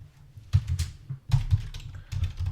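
Code typed on a computer keyboard: close, uneven bursts of key clicks with short pauses between runs of typing.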